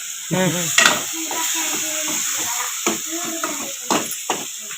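Food frying in hot oil in a home kitchen at night with no lights, giving a steady sizzling hiss, with voices talking over it and a few sharper spatters.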